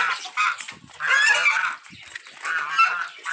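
Geese honking loudly and repeatedly as they are caught by hand, separated from a Muscovy duck on a Brazilian farm, with harsh overlapping calls in several bursts close to the listener.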